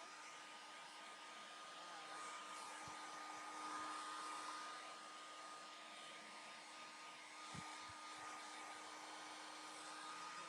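A hair dryer blows continuously with a steady whirring hiss, its tone wavering slightly, with a few faint knocks in the background.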